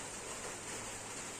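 Steady, dense hiss of rain falling, even and unbroken, with no voices.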